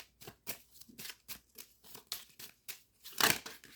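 Kipper fortune-telling cards being shuffled at close range, a string of quick papery riffles and slaps in an irregular rhythm, ending in one louder, sharper burst of card noise.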